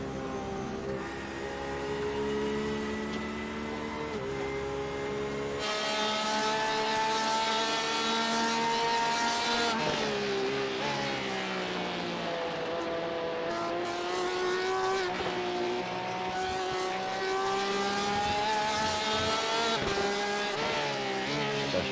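Race car engines roar through a sim racing game at Spa Francorchamps, a loud continuous high-pitched whine that rises and falls with gear changes and overlapping cars, with no talking.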